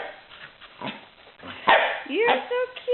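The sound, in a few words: dog barking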